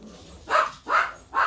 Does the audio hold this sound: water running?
no